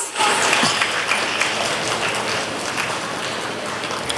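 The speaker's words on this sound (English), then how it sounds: "Please give her a loud round of applause, please." Loud, dense applause from a school annual day audience honoring a Class 11 proficiency prize winner, a steady wash of many hands clapping that holds evenly for several seconds.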